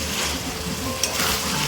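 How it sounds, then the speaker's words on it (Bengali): Meat browning in a pan for a home-cooked Bengali curry, a steady broadband sizzle running continuously throughout with a brief sharper spit near the middle. "এদিকে আমি মাংসটা কষিয়ে নিচ্ছি ভালো করে।"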